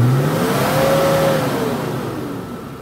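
An off-road 4x4 engine revs hard under throttle, a loud, close mid-pitched roar that climbs in pitch, holds, then eases down.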